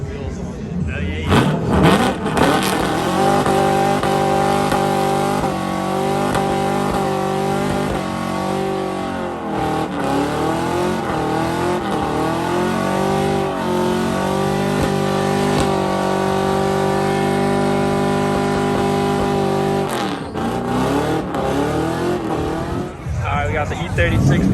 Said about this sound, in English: We got the E36 pulling up now.